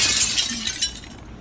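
A glass window shatters in the horror video game Granny 3: a loud, bright burst of breaking glass that quickly fades into scattered tinkling.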